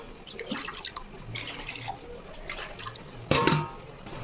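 Water poured into a pot of browned meat gravy for a South Indian Sunday lunch, a faint splashing and trickling liquid sound with a brief louder gush near the end.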